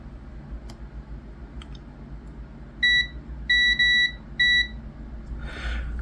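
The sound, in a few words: multimeter continuity test beep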